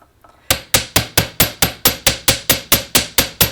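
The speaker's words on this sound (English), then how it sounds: "Then you have to hammer it." Close, sharp metallic blows of a hammer flattening silver-plated copper wire jewelry pieces begin after a brief quiet rustle, then repeat in an even, rapid rhythm of about thirteen strikes with no voices.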